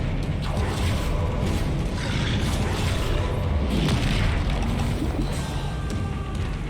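Fiery Confringo spell blasts from Hogwarts Legacy combat, a continuous loud barrage of booming explosions and crashing impacts with no pauses between them, dense and close throughout.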